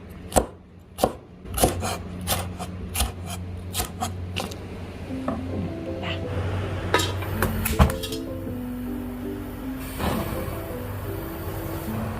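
Knife chopping onion, cabbage and spring onion on a board for Korean jjamppong noodles, a steady run of sharp, close knocks with occasional clinks of dishes, no talking.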